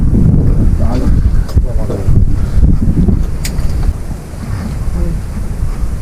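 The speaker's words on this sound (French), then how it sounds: "Le vent se lève." Strong wind gusts buffet a sailboat underway at sea, roaring and rumbling continuously across the microphone, with a brief lull before the gusts pick back up.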